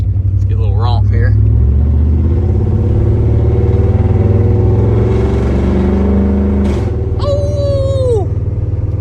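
Old OBS Ford truck engine revving hard to about 3,000 RPM and shifting gears, a loud, deep, rumbling drone with pitch steps at each shift, heard close with people talking and exclaiming over it.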